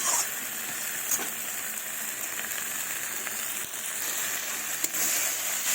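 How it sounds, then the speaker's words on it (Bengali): Spinach stems cook with fish roe in a pan, giving a steady, close hiss and sizzle with a few faint scrapes of stirring, running evenly throughout without any voices. "তো এইভাবে ভালোভাবে কষিয়ে নিতে হবে।"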